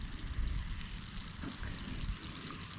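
Fresh water from a water tank runs out of a hose in a soft, steady trickle and splash, faint and close, with no talking.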